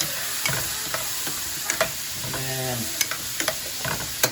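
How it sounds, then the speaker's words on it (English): Vegetables and whole garlic cloves fry and sizzle as they cook down in a pan for bone-in short ribs, a steady crackling hiss broken by scattered stirring clatters, with a brief word spoken. "We let these vegetables cook down a little bit."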